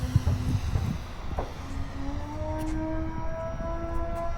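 A Flex Innovations Twin Otter 80E RC plane runs at full throttle, its motor whine climbing steadily in pitch with layered tonal harmonics over a windy, rumbling background, close and continuous.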